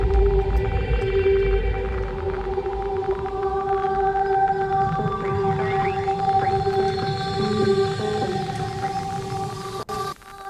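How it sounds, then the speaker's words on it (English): Dark trap intro opens on a low impact rumble beneath a downward-sweeping lifter and steady tonal layers, a dense sustained wash that thins abruptly near the end. "It starts out with a low impact just to give some rumble, and then a down lifter to fill out the highs and mids"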